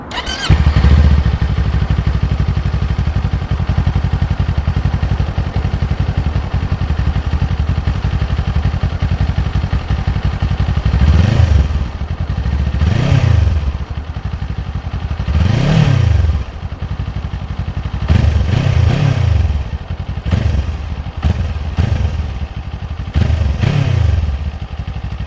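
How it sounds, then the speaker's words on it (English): A 2024 Kawasaki Eliminator 500 motorcycle engine runs loud and close, with a steady idle broken by several repeated throttle blips that rise and fall in pitch. "So this is the Kawasaki Eliminator 500"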